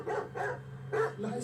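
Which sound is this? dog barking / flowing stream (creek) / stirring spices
dog barking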